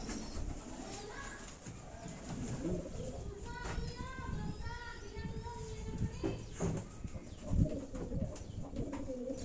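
Soft, repeated pigeon coos under a busy backdrop of other birds chirping and faint voices, continuing steadily throughout.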